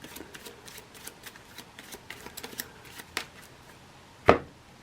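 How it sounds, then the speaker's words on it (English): Marvel Champions playing cards riffle in a quick series of soft snaps, ending with a sharper slap as the deck comes together, close and fairly quiet. "All right, I'll give this a shuffle."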